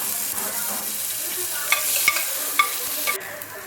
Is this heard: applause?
no